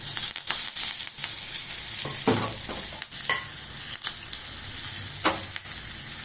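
Asafoetida and curry leaves sizzle in hot oil as a tempering for bottle gourd buttermilk curry, a continuous loud crackle near at hand, punctuated by occasional knocks and scrapes of stirring, with no one talking.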